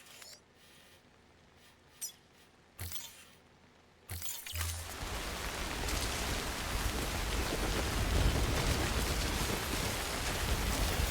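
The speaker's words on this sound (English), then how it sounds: "There's a downpour." Heavy rain downpour in the video game Death Stranding. It starts with a few faint sparse knocks and thumps, then from about four seconds a loud, dense, steady hiss of pouring rain fills the rest and keeps building slightly.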